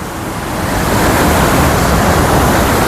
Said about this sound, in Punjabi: ਦੇਖੋ ਕਿੰਨੀ ਸਪੀਡ ਦਾ ਪਾਣੀ ਚੱਲਦਾ